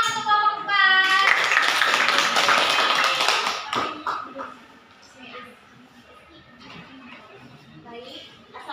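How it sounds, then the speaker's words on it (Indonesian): A classroom of students claps for a group presenting in a classroom guidance lesson, a loud burst of applause that stops after a few seconds, then quieter chatter and scattered sounds follow. "Tepuk tangan untuk kelompok 4."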